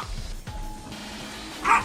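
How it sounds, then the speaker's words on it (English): One sharp dog bark near the end follows some faint low thumps, a short isolated yelp against a quiet room. "don't bark on my screen."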